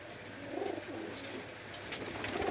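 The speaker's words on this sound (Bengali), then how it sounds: "সুপ্রিয় দর্শক, আমি এক জোড়া কবুতর দেখাচ্ছি।" A newly paired Pakistani high flyer teddy pigeon couple in a Khulna loft gives soft, low, rolling coos, a few faint phrases spread across a few seconds against a quiet background hiss.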